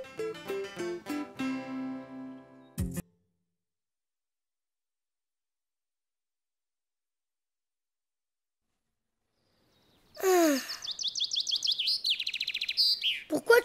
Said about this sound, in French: Tu me réveilles, l'oiseau.